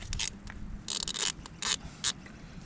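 Top plug being loosened on a Komatsu PC40 final drive, a close series of short ratcheting clicks and scraping metal turns in uneven bursts.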